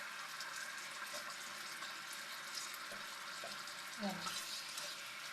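Chicken simmering in plum sauce in a pan, a steady soft bubbling hiss that runs throughout with faint clinks, and a voice speaking briefly near the end.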